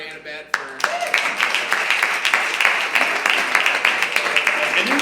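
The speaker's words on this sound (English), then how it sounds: "give me one more round of applause for Annabette." Audience applause at a live improv comedy show, a steady crowd of clapping that starts abruptly after a brief voice and continues for several seconds, fairly loud with dense, irregular hand claps.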